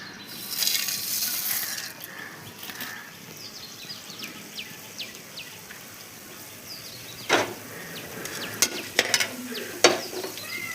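Dried red chillies and spices roasting in oil, a faint continuous sizzle with occasional stirring scrapes and a few sharp clinks of a spoon against the pan toward the end, close but quiet.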